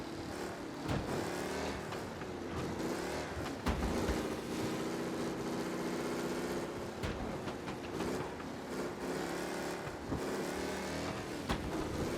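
Race car engine in Mafia Definitive Edition, overheating and close to failure, running steadily with a continuous harmonic drone and occasional surges in pitch, loud and alone.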